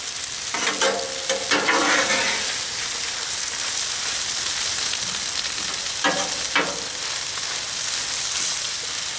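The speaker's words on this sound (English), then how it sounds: "Give it one good stir after you put in that sauce." Beef stir fry with sauce sizzling on a Blackstone griddle, a loud continuous hiss with scraping stir strokes from a utensil at a few points, close and without talk.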